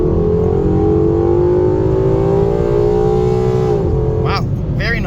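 A 2013 Mustang GT with a 6R80 transmission and cold air intake accelerates hard at full throttle, its engine note rising steadily then dropping off near the end, loud and close with someone talking over it.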